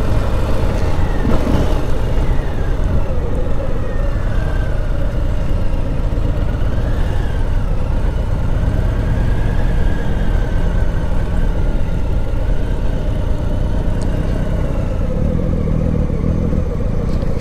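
A 2020 Harley-Davidson Sport Glide with an 1800cc engine runs continuously, a loud, dense low rumble holding steady throughout with faint rising and falling tones riding over it.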